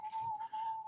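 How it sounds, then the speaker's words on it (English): A steady, thin whistling tone of London wind at a window holds almost unbroken for under a second, faint and airy with a soft rushing hiss above it. "someone else can hear the wind from the window, and it's whistling"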